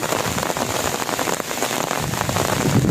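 Heavy rain pours down steadily in Thailand, a loud, dense patter of drops on surfaces that continues without pause, close and alone with no talk.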